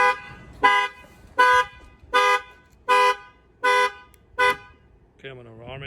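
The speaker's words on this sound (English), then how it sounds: "bang in the window, and that will trigger the alarm" A Ford F-250 pickup's alarm, set off by a shock sensor, honks in seven evenly spaced loud blasts, then switches to a rising and falling warbling siren tone, close and clear.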